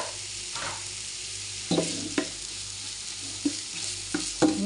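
Onions sautéing in a pan with garlic for Filipino spaghetti, a soft continuous sizzle broken by several scraping stirs and clatters of a utensil, close by and with no talking.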